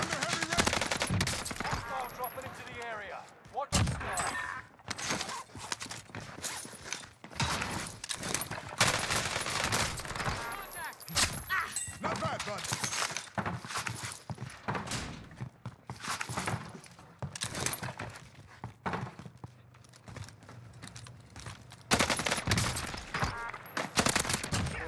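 Rapid NZ-41 gunfire rattles through a Call of Duty Warzone Rebirth match on Alcatraz, with repeated close bursts and shots and occasional speech.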